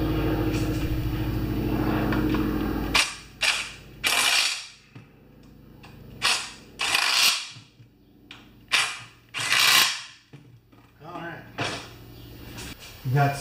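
A ratchet tightens bolts on a Homelite aluminium lawn mower, with bursts of sharp, close clicking in short repeated runs separated by brief pauses, following a stretch of steady low hum.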